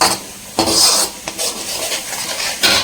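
A large ladle stirs egg masala gravy in a kadai pan, making close metallic scrapes and clanks in a few irregular bursts with wet swishing between them.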